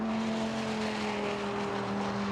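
A Dodge Viper race car circling a racetrack gives off a steady, droning engine note that holds constant throughout, with no voices over it.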